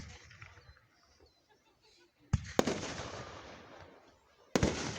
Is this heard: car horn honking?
no